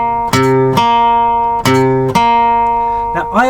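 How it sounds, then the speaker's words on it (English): On guitar, a flat seventh interval sounds twice, each time a low note followed by a higher one that rings out clearly and close. A few quick plucked notes follow at the end. "Now, flat 7 sounds like this."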